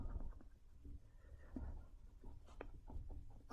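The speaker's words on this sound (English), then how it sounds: "So I'm going to erase some of this stuff." Writing is erased from a board in a classroom, with soft irregular rubbing and wiping strokes, close and fairly quiet.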